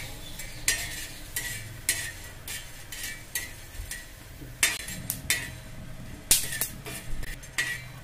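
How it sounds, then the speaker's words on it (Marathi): Whole spices, including black cardamom, cinnamon and black peppercorns, dry-roast with coconut in a pan for a mutton handi masala, with repeated close clinks and scrapes of a spoon stirring against metal over a low, soft sizzle. "याला सुद्धा आपण भाजून घ्यायचं आहे मसाल्यांसाठी"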